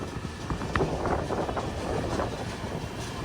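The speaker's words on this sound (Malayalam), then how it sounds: "പെരമ്പൂർ റെയിൽവേ സ്റ്റേഷനിലേക്ക് ഇതാ നമ്മുടെ ട്രെയിൻ എത്തിക്കൊണ്ടിരിക്കുക." Patna Express pulling into Perambur railway station, a steady low rumble of wheels and carriages with faint rhythmic clanks under wind noise, fairly loud and continuous.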